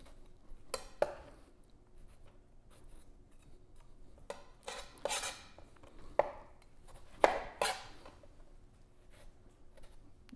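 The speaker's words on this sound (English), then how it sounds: "So once you have all your tomatoes cored, you're just going to go down the middle, nice chunks." Knife cutting cored tomatoes into chunks on a cutting board for homemade salsa: irregular sharp chops and taps spaced a second or so apart, fairly close and moderately quiet, with no talking.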